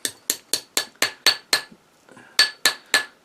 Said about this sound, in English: So I work harden the ring